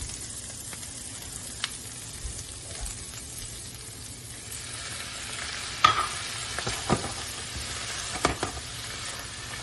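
Salmon with peanuts sizzling steadily in a pan after a little water is added, a soft continuous frying hiss broken by several sharp crackles and spatters toward the end, with no voices.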